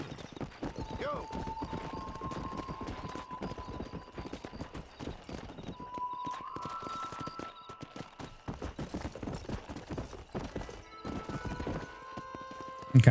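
Horse galloping in Red Dead Redemption, steady rapid clip-clop hoofbeats throughout with a couple of whinnies, a voice talking over the ride.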